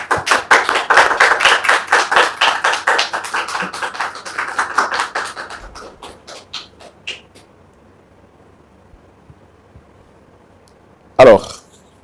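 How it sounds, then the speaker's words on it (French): A studio audience gives a short round of applause. Clear rhythmic claps thin out over about six seconds and fade to near silence, then a single loud bump sounds near the end. "sous vos applaudissements, s'il vous plaît"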